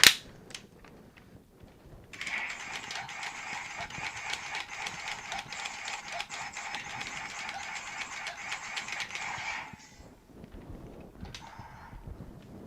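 Gear Zinger toy launcher being wound with a rapid, steady ratcheting whir lasting several seconds, then released, followed by quieter clicks and handling.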